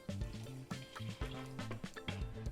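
Chicken broth pours into an Instant Pot, a close, gurgling liquid stream with repeated glugging pulses as it fills the pot.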